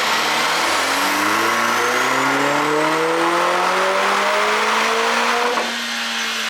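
A tuned Lotus Emira on a dyno, running on E30 with a JB4 tune, winds up in one long, loud, steady pull as its engine note climbs smoothly through the gears toward the top before cutting off abruptly.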